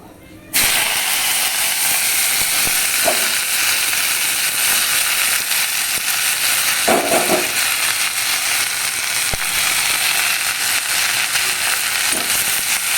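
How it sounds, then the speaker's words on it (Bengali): Spinach frying in a pan gives off a continuous, even sizzling hiss that holds steady throughout, with a few faint clicks and knocks from the stove area mixed in. "প্রথমেই শাকটা বসিয়ে দিলাম, পালং শাক ভাজা"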